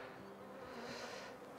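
Agitated honey bees buzz around an open hive during a frame inspection of a failing colony, a steady close drone with a thick humming tone, alone without talk.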